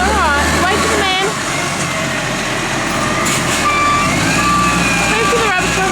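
A rubbish truck's reversing beeps repeat steadily over the rumble of its engine, fairly close, while people talk over the noise.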